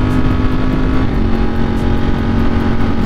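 A Ducati Streetfighter motorcycle with a 520 chain and sprocket pulls hard up a hill, its loud engine drone holding steady near the microphone with wind rush and no talking.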